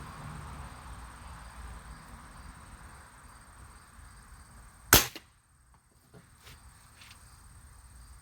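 A single sharp shot from a Beeman Black Panther spring air rifle fitted with noise control, one crisp crack followed by a short mechanical rattle and near silence, close by after a faint background hum.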